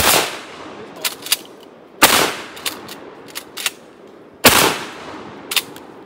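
A 10 gauge shotgun fires three loud, sharp blasts about two seconds apart outdoors, each followed by a rolling echo and smaller clicks of handling between shots.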